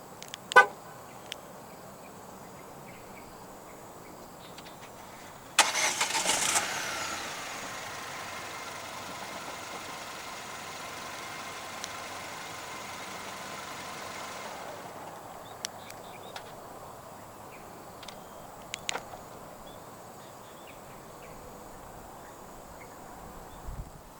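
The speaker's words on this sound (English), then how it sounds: "Standard for the Dashing in Malaysia is a remote engine start system" A few faint clicks, then a 2025 Jetour Dashing 1.5 turbo engine cranks and starts by remote start, idles steadily for about nine seconds, and shuts off, leaving quiet ambience.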